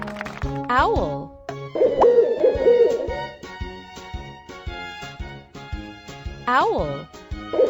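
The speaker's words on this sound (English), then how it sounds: "Owl." An owl hoots in a children's animal-sounds puzzle, several clear hoots with sliding pitch recurring in a loose rhythm, alongside other bright animal calls and short plopping effects.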